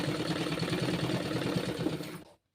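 A sewing machine runs a fast, steady stitch through elastic on a sharara garment, a close rhythmic whirring that carries for about two seconds before stopping abruptly into silence.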